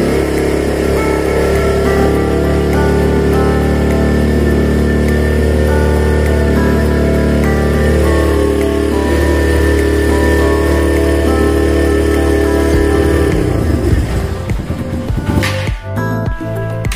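A Kawasaki W175 motorcycle with the choke raised, its engine running loud and close in a steady idle thrum for most of the stretch, then faltering and cutting out near the end, leaving a few clinks.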